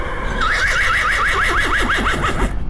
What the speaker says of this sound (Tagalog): So yeah, may kabayo dito.